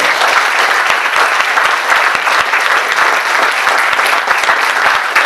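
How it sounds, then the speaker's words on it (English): A room full of people at an anniversary celebration breaks into loud, dense applause, many hands clapping in a continuous close roar that holds steady for several seconds. "we give a round of applause to the people that raised their hands"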